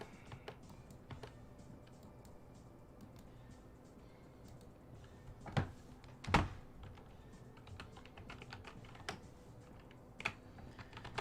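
Someone types steadily on a computer keyboard that has been damaged by spilled water. The keys make close, soft clicks with a few louder thunks in a quiet room.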